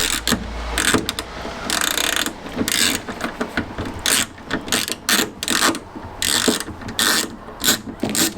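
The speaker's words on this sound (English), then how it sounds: "I'm using my ratchet." Ratchet undoing screws on a classic Fiat 500 door card, a close run of quick clicking bursts in irregular rhythm with brief pauses between strokes, no talk.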